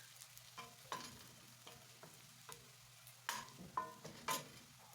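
Crushed garlic sizzles faintly in a pan while a spoon stirs it in repeated scraping strokes, with soft clinks between the stirs.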